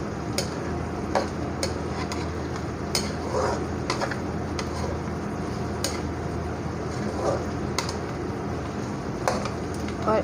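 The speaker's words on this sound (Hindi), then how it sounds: "इसी कढ़ाई के अंदर हम प्याज डालेंगे। प्याज को हम अच्छी तरह भून देंगे।" Onions frying in a kadai over high heat, stirred with repeated sharp scrapes and clinks against the pan above a steady sizzle, close and moderately loud.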